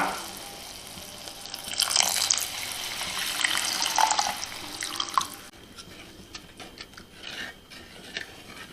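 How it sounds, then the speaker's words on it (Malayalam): Water poured from a container into a clay pot of fish curry, a splashing, gurgling stream that swells for several seconds and then tapers into quieter drips and trickles. "ഇനി ആവശ്യത്തിന് വെള്ളം ഒഴിച്ചു കൊടുക്കാം"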